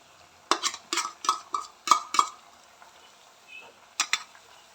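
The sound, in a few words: stirring soy sauce and tomato ketchup in pan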